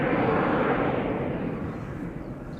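An airliner departing Amsterdam Schiphol Airport, a loud, broad engine roar close at first that slowly fades as the aircraft pulls away, with no other sounds over it.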